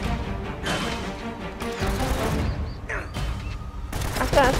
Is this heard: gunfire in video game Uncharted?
yes